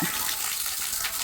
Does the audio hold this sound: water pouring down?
yes